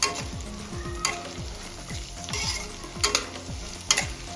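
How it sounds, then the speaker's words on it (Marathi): Carrots and beans sautéing in a hot pan for masala Maggi, a steady sizzle broken by repeated stirring scrapes and occasional sharp clinks, close-up with no talk. "आता या स्टेजला बीन्स ऍड करून घेऊया बीन्स पण परतून घ्यायचे आहे आपल्याला"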